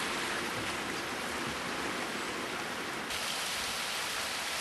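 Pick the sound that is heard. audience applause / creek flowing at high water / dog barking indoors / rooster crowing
creek flowing at high water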